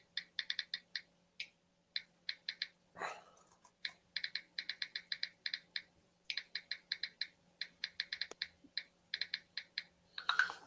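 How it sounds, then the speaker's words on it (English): Typing on a computer keyboard in a backstage chat: quick bursts of close, crisp key clicks in uneven runs with short pauses, plus one louder thump near the middle, steady low hum underneath and no voices. "Hold on, I'm typing in our FRN backstage chat."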